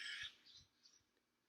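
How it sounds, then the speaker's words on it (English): Birds chirp outdoors in a short burst of high, bright calls at the start, then fainter scattered chirps trailing off, with quiet low rumbles beneath and no talking. "Hear the birds? Hear the birds?"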